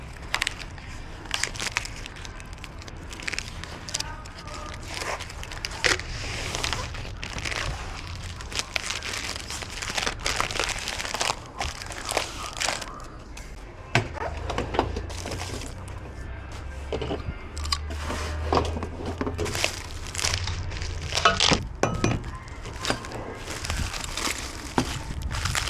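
Protective plastic film is peeled off the stainless steel top of a Husky 62-inch combo hutch workbench. The crackling, crinkling tearing is close and continuous, with sharper rips throughout.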